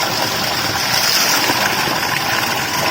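Village spring stream of drinking water flowing steadily through a forest setting, a continuous close rushing wash with no voices.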